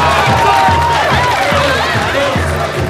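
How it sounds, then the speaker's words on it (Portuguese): A dense carnival crowd fills the air with continuous loud cheering, shouts and clapping for the Viradouro baianas' second wing, with a steady rhythmic drum beat pulsing underneath throughout. "Palmas para a segunda ala de baianas da Viradouro e com gritinhos."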